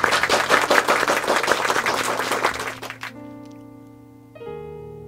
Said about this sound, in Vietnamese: một tràng pháo tay nồng nhiệt.